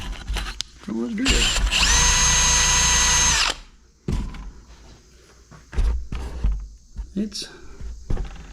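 A power drill whirs loudly for about two seconds at a steady pitch, with brief clunks and handling noises before and after, in a welding workspace.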